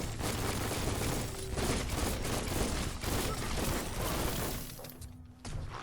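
Gunfire and shattering in the video game Biomutant, dense rapid bursts of shots and breaking sounds over a loud continuous battle din, easing briefly near the end.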